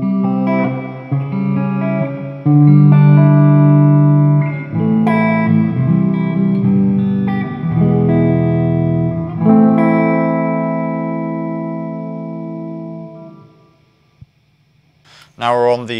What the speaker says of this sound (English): We're now onto the room reverb.